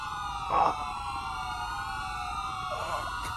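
Video game ambulance siren wails loudly and continuously, its rising and falling tones sweeping up and down with no talking over it.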